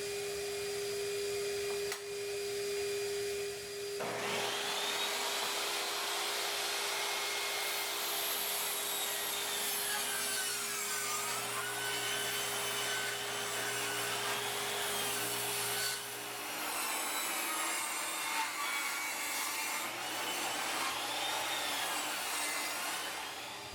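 A power saw rips a 2x4 lengthwise into a 2x2 strip: a motor hum, then a loud, sustained whining cut through the wood lasting several seconds, close by, with no talk.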